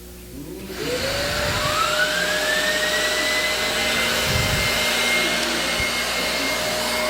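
A vacuum cleaner demonstrated inside a church starts up and runs loud and steady, its motor whine rising in pitch as it spins up and then holding a constant drone.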